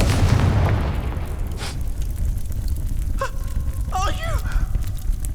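A fire spell blasts off in a video game, a loud broad rushing burst at the start that rolls into a lingering rumble, with a voice speaking briefly afterward.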